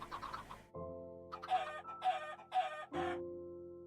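Chickens clucking in the video game Minecraft, a few short separate clucks in quick succession over a steady game hum, fairly quiet.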